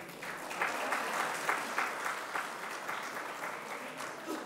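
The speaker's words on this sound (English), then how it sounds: "a big round of applause." An audience at an ICAR foundation day award ceremony breaks into sustained applause, a dense, even wash of many hands clapping at moderate distance, holding steady without any voices over it.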